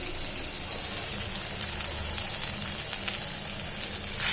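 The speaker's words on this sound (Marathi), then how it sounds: "आपण हा राईस घालायचा आहे चांगलं परतून घ्यायचं" Jeera rice being sautéed in a pan, giving a steady, soft sizzling and crackling hiss throughout with no one speaking.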